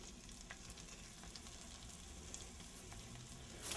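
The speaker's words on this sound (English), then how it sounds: "And I can hear it sizzle." Floured chicken pieces sizzle in a hot frying pan, a soft, steady crackling hiss with scattered small pops, fairly quiet and close, with no talking.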